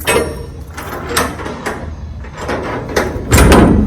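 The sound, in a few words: steel shipping container doors swinging open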